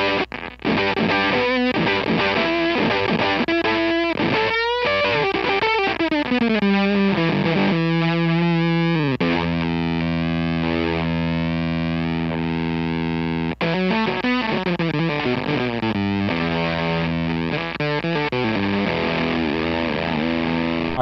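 An electric guitar played through a Facer fuzz pedal gives a raspy, blown-speaker distortion. Fast choppy riffs give way to long sustained chords that ring out, then more riffing follows, loud and close with no voices.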